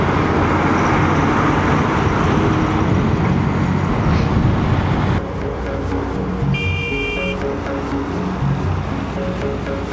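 Heavy roadway traffic with trucks on a dusty road between Mardan and Islamabad, a dense continuous rumble that stays loud throughout, easing slightly midway, with a brief buzzing tone near the end.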